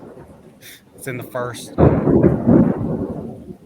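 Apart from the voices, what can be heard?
thunder from a thunderstorm outside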